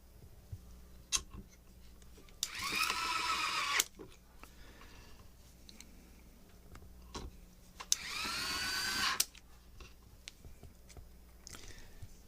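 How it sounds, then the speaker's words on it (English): An electric screwdriver drives screws in two whirring bursts of a couple of seconds each, fairly close in a quiet room, with small clicks and handling knocks between them. "Pretty handy to have an electric screwdriver."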